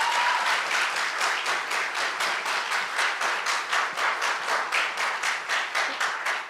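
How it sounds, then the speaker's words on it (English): Audience applause at a youth-led weekend gathering, a dense wash of many hands clapping with a steady pulsing rhythm, sustained and fairly close throughout with no talk over it. "can we give them another round of applause?"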